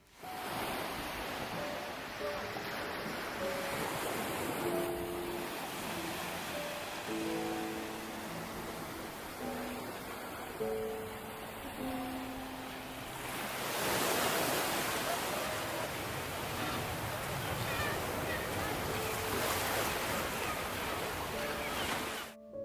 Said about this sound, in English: Portobello Beach is definitely the prettiest beach I've ever been to